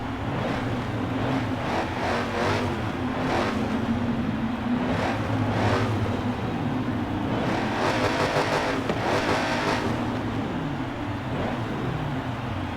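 A Dodge Hellcat muscle car engine rumbles steadily with several sharp rev surges, recorded at a racetrack with a busy, noisy background and no voices.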